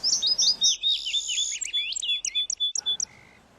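High, clear bird chirps in quick repeated bursts, several calls overlapping, fairly close and with no talking.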